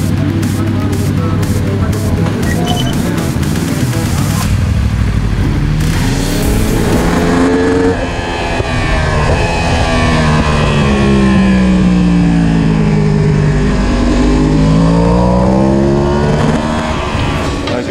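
Loud motorcycle engines roar and rev with rising and falling pitch as the bikes speed past on a race track, while a voice talks underneath.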